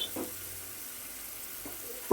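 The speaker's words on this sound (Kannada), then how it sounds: "ಸ್ವಲ್ಪ ಒಣಮೆಣಸಿನ್ಕಾಯಿ, ಈ ಉದ್ದಿನಬೇಳೆ ಕಡಲೆಬೇಳೆ ಸ್ವಲ್ಪ ಕೆಂಪಾಗೋಣ ಒಗ್ಗರಣೆ ಹಾಕಿಬಿಡ್ತೀನಿ." Dried red chillies, urad dal and chana dal sizzle in hot oil for a tempering, a soft steady crackle with a couple of faint utensil touches.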